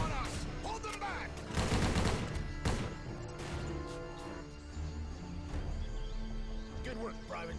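Rapid bursts of gunfire from a shooter video game, with crashing impacts and overlapping shots, loud and dense throughout, under in-game voices.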